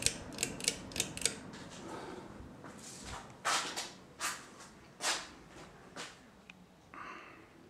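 Hunter Mayfair 52-inch five-blade ceiling fan spinning down after being switched off: faint soft clicks and creaks, then rhythmic whooshing pulses that come further apart as the blades slow, quiet and close.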